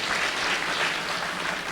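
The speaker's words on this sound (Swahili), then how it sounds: "Mpigieni makofi." Audience at a Kenyan public gathering with a bishop present claps steadily, a dense, continuous wash of applause throughout with no voices standing out.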